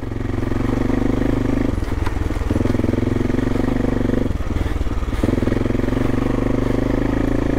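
An AJP PR7 motorcycle rides off-road, its engine droning loud and steady throughout, with two brief dips as the throttle is eased before power comes back on.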